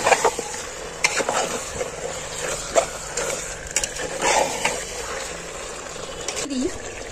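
Mutton with salt and chilli being stirred in a pot, a spoon scraping and clacking intermittently against the metal amid soft wet squelches, close by at a moderate level.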